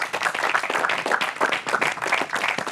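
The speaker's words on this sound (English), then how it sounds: "Can you clap for yourself?" A group of participants at a photography boot camp reality show clap for themselves, a steady dense patter of many hands that carries on throughout without breaks.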